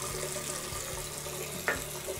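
Water runs steadily from a tap into a sink to wet shaving soap, a constant close rushing flow with a faint low hum beneath and a brief splash near the end.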